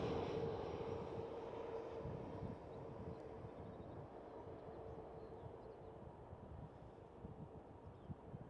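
An EasyJet UK airliner at Amsterdam Schiphol gives a steady, broad engine roar at moderate distance, slowly easing in level with no voices over it.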